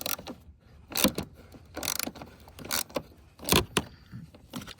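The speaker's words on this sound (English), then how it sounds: "So I'm going to finish tightening this bolt down here." A ratchet tightening a bolt on the fresh-air intake cowl of a Lincoln Town Car, heard as several close bursts of rapid metallic clicking separated by short pauses, with no talking.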